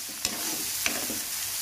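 Ginger garlic paste frying in hot oil for a fish pulusu, a steady broadband sizzle with two sharp stirring scrapes near the start and middle, fairly close and without any voices.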